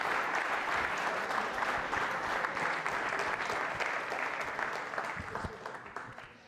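Sustained, dense applause from a live audience at a university quiz show, loud and steady for several seconds before easing slightly at the end, with no speech over it.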